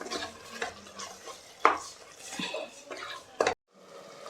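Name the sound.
sautéing salt and coriander leaves in a pan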